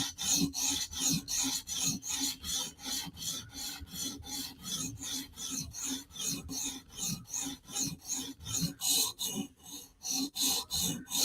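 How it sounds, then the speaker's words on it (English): A Mini Arius knife being sharpened on a sharpening system, with steady back-and-forth rasping strokes in a quick, regular rhythm, close and fairly loud, with no talking. "it won't take me that long to sharpen now"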